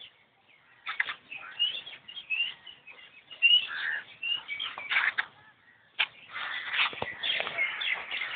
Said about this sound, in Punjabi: ਸਾਰੇ ਮੋਰ ਹੀ ਨੇ ਯਾਰ